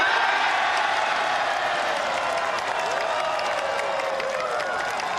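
Golf gallery at the final round of the LPGA Thailand tournament applauding and cheering in a steady, dense wash of clapping that holds for several seconds, loud and even, with crowd voices mixed in.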